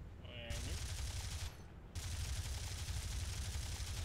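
Anti-aircraft guns fire in War Thunder during an air battle, a dense, steady roar of rapid fire that cuts out briefly and resumes, loud and continuous.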